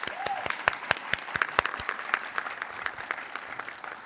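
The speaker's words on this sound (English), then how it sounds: "how about one more round of applause for our Greater Philadelphia storytellers?" An audience at a storytelling show in Philadelphia applauds the Greater Philadelphia storytellers, with crisp nearby claps over a fuller crowd clapping that gradually thins toward the end.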